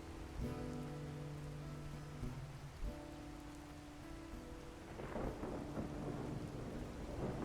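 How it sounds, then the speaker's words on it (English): Rain falls in a thunderstorm in the Enderal game, a steady hiss of rain with deep rolling thunder. A sharper crack of thunder breaks through near the end, over a low droning tone. "Bit stormy, as always."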